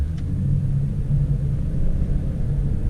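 A car pulling away in first gear during a transmission test, a steady close engine rumble with a low droning hum throughout.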